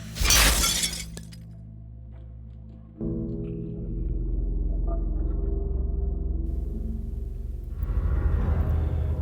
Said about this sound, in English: As you wake up, you hear the sound of glass breaking.